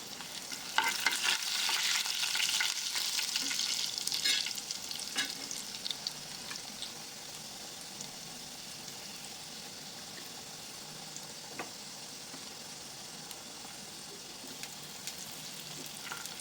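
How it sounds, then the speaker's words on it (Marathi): Sliced onion sizzles in a hot pan while being stirred, a steady close frying hiss that is loudest at first and then settles to a quieter simmer with occasional scrapes. "आता स्लाइस केलेला कांदा घाला."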